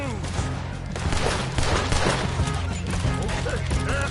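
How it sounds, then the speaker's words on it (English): Gunfire in the video game Red Dead Redemption 2, a dense continuous volley of shots layered over battle noise, loud and unbroken across the short stretch, with voices mixed in. "Just keep shooting till nothing moves."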